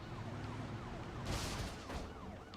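A police car siren in the Xbox One game Police Chase wails, sweeping up and down steadily, with a brief burst of noisy crashing in the middle.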